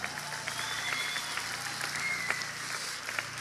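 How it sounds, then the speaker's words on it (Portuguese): A church congregation applauds in a steady, diffuse patter at moderate distance, fairly soft and continuous, with faint voices mixed in. "Aplauda Jesus pela vida dela."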